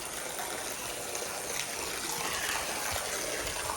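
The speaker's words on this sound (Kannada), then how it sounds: "ಅಲ್ಲಿ ಬರ್ತಕ್ಕಂತಹ ನೀರು ಇಲ್ಲಿ ಬಂದು ಬೀಳುತ್ತೆ." Water pours into a temple tank (kalyani) at a Ganapati shrine in Koppa, Chikkamagaluru, a steady, dense rushing splash that stays constant and fairly close for the whole moment.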